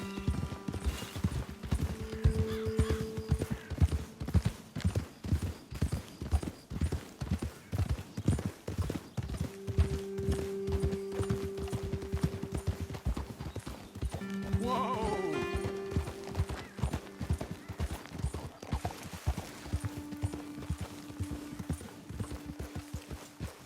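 Hooves of horses being ridden in Red Dead Redemption 2 beat a steady, close clip-clop rhythm for over twenty seconds over a bed of soft game ambience and music, with no talk.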